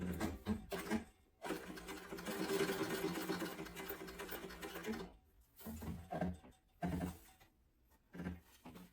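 A sewing machine stitches the end of a sling bag strap in bursts of steady mechanical whirring, with short pauses between runs, close and fairly loud.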